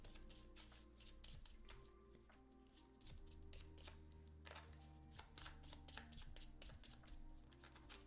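A deck of game cards shuffled by hand during a solo board game session, repeated crisp riffling bursts and soft shuffling at close range, fairly quiet, with no talking.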